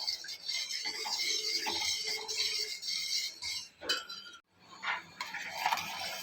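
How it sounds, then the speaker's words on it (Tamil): A spoon scrapes and clinks steadily against the bottom of a metal pan while stirring sugar and water into syrup, with a soft continuous hiss of heat in the background. "இதை கொஞ்சம் நல்லா கலந்து விட்டுட்டே இருக்கணும்"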